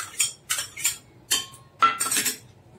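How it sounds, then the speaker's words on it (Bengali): A metal tiffin carrier being filled with mustard and green chilli paste and yogurt for an elish fish vapa, giving a series of close, bright metallic clinks and scrapes of a spoon against the container, in short bursts with pauses. "এই যে টিফিন কারির মধ্যে দিয়ে দিলাম।"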